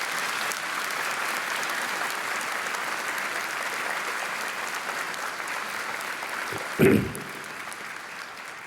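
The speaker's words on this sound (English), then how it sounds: "Please give Flavio a round of applause." Audience applause at a university commencement ceremony, steady and even for several seconds with a brief thump near the end, carried through the hall's sound system.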